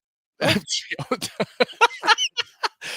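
A sudden sharp sneeze bursts out, followed by a stretch of people talking.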